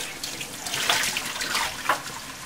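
Tap water runs steadily into a bowl as rice is rinsed in a kitchen, a continuous close splashing rush with a few brighter splashes.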